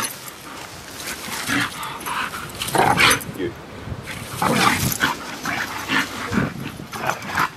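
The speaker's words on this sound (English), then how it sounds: "First time puppy playing, wants to play with her." A bull terrier puppy plays with another dog, giving yips, whimpers and short play barks amid scuffling, close by, while people talk over the noise.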